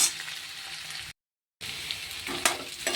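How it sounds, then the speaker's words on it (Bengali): Potato pieces frying in a pan with oil until reddish-brown, giving a steady broadband sizzle with stirring noises; the sizzle cuts out for about half a second mid-clip, then resumes with a few louder crackles. "এখানে আমি একটুখানি আলুকে ভেজে নিচ্ছি ভালো করে, একদম লাল লাল হওয়া পর্যন্ত আলুগুলো একটু ভেজে নিতে হবে।"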